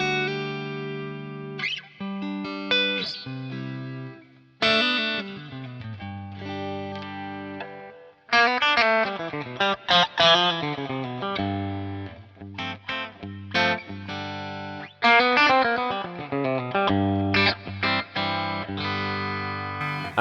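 A PRS SE electric guitar played through distortion, with chords and single-note riffs in bursts separated by short pauses, loud and close with effects coloring the tone.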